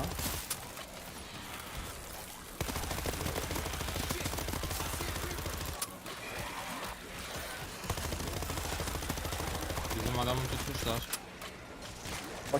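Gunfire from the zombie shooter World War Z in a New York level, a dense run of rapid shots and bursts that keeps going with brief gaps, with players talking over it.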